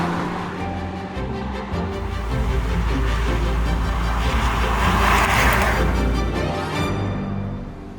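A Honda Civic Type R Sport Line drives along a road, heard from inside as a steady low rumble of tyre and road noise with a broad hiss swelling in the middle, then easing off, with no talking.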